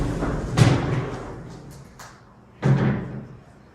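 A large patio door in a house in San Jose, California, shown during a home tour, is opened, giving two fairly loud thuds or slams about two seconds apart over a faint room background.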